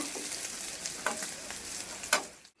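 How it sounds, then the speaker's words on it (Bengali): Paneer fries lightly in hot oil, a close, even sizzle with a few crackling spatters and a utensil clink before the sound cuts off abruptly. "পনিরটা আমি খুব বেশি ভাজবো না হালকা করে একটু ভেজে নিলাম"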